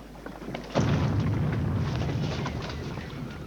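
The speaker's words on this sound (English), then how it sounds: "The cannon of Chateau d'If." A single deep boom of the Chateau d'If cannon erupts and rolls on as a long, rumbling roar that slowly fades, like a distant cannon shot.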